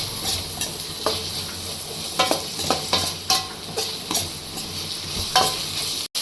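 Chicken liver and gizzard masala fries in a pan with a steady sizzle, broken by repeated scraping stirs of a spatula at an uneven rhythm, close and fairly loud, ending in a brief cut.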